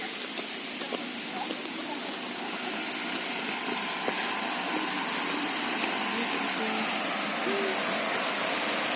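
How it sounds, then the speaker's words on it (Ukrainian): The Shypit waterfall in the Ukrainian Carpathians hisses as a constant broadband rush of falling water, steady and fairly close, with faint indistinct voices underneath. "Водоспад шипить."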